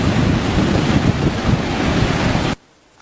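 Ocean waves and surf roar loudly and steadily in wind-buffeted open air, then cut off abruptly to near silence for the final half second.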